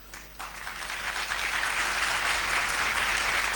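An audience claps loudly and steadily, beginning with a few scattered claps before swelling into sustained, full applause that fills the room.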